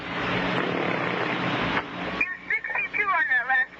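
A model rocket ignites and roars off the pad, a loud broad rush of exhaust noise lasting about two seconds before cutting away, followed by excited voices talking.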